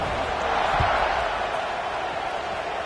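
A stadium crowd in the NCAA 25 college football video game gives a steady, broad roar at moderate level, with no distinct cheers standing out.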